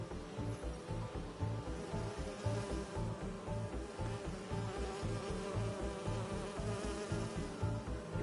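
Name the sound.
bee wolves buzzing in video game Marvel's Spider-Man 2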